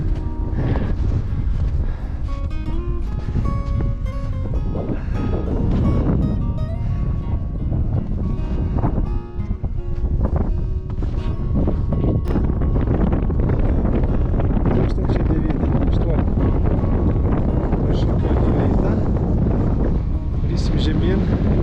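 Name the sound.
strong cold wind on a mountain trail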